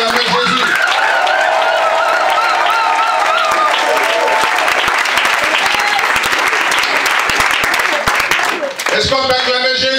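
Congregation at a French-language church prayer vigil of praise and worship applauding and cheering, with dense sustained clapping and crowd voices filling the whole stretch, sung or shouted tones rising over it before a brief dip near the end.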